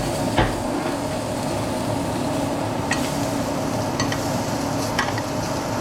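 Steak frying in a hot pan with butter and garlic as it is basted: a loud, steady sizzle runs throughout, broken by a few faint metallic taps of a spoon against the pan.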